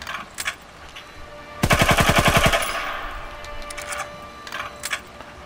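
ZK-383 submachine gun firing full-auto in Call of Duty WW2 on PS4: one loud, rapid burst of about a second, with a lingering tail and faint clicks before and after.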